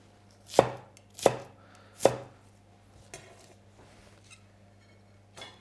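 Knife chopping vegetables on a cutting board while preparing vegetables for a dip, three distinct evenly spaced chops up close, followed by faint light clicks and handling sounds.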